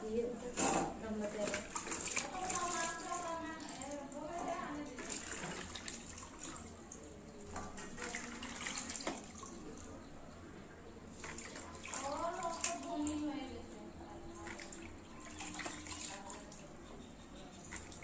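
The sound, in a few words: water poured into a bowl in kitchen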